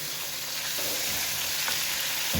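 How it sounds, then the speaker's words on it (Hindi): Chicken pieces sauté in a hot pan for a soy sauce noodle dish, a steady loud sizzle with a couple of faint scrapes of stirring and no voices. "2 से 3 मिनट चिकन सौते करेंगे।"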